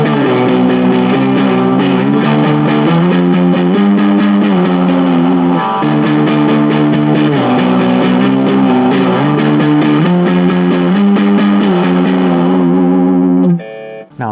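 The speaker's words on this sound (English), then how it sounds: "Now these are kind of like power chords where I'm just holding 2 strings and I'm doing a phrase." Electric guitar power chords, two strings held through a King of Tone clone overdrive pedal, ring out loud and distorted in a repeating phrase of chord changes, ending abruptly.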